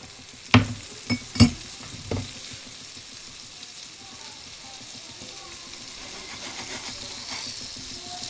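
Salmon fries in butter in a pan with a steady, close sizzle, punctuated early by a few sharp clinks and knocks of utensils against the pan.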